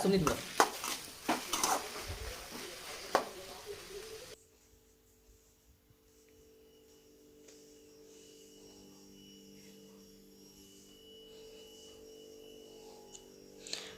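Village-style brinjal chutney ingredients, with coriander leaves, roasting in a pan: close scraping and stirring with a light sizzle for about four seconds, then a quiet, steady low hum.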